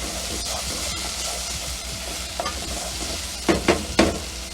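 Garlic and shallot frying in a pan, a steady close sizzle with stirring scrapes and a few sharper bursts near the end, with no talking.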